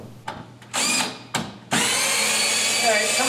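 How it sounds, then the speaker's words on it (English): Cordless power drill backing out screws that hold a large aquarium tank to a wall, several short whirring bursts followed by a longer sustained high-pitched spin, close up. "we now need to remove the screws that hold it to the wall"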